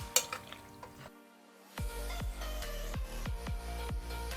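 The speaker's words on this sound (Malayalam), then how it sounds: "ഇനി ഇതെല്ലാം കൂടെ ഒന്ന് മിക്സ് ചെയ്യാം." Mutton being stirred with turmeric, salt and pepper in a cooker for a Kerala-style curry: soft scraping and clinking strokes against the pot, repeated in a loose rhythm over a low steady sizzle, with no talking.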